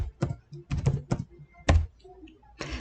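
Keys on a computer keyboard are typed in short bursts of clicks with brief pauses between them, close and moderately loud, while a faint voice is heard under part of the tapping.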